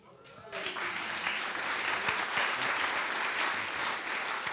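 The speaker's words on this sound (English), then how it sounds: "I knew that this generous audience would want to applaud for her." An audience at an annual awards meeting bursts into sustained applause after a brief quiet start, the dense clapping holding steady and loud throughout with a faint voice or two beneath it.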